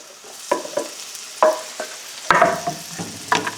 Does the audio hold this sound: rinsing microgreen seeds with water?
no